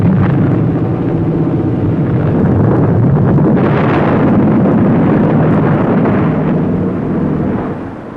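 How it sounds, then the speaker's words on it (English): Bombs burst against anchored captured German warships (a submarine, a destroyer and the cruiser Frankfurt) as Army, Navy and Marine Corps pilots attack: a loud, sustained rumbling roar of explosions, dense and continuous, easing off near the end. "Army, Navy, and Marine Corps pilots bombed a submarine, a destroyer, and the cruiser Frankfurt."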